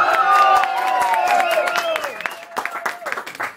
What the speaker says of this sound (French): des applaudissements, des cris de joie, etc.